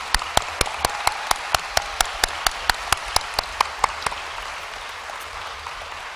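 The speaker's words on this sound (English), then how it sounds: "everybody just give them another round of applause" Sharp single claps ring out in a steady, evenly spaced rhythm at a school awards assembly, fading to a few scattered claps near the end.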